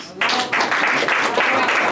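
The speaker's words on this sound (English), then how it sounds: "Give yourselves a round of applause." A crowd bursts into loud, sustained applause, many hands clapping densely and steadily throughout.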